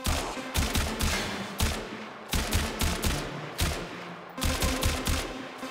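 Video game gunfire with a multi-shot ability, loud rhythmic bursts of several rapid shots each, separated by short pauses and repeating across the stretch.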